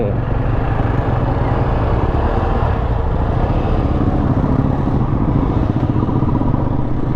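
A Bajaj Pulsar NS400Z motorcycle carries a rider and passenger, giving off a continuous, loud engine hum with road and wind noise. The sound stays even throughout, and no one speaks.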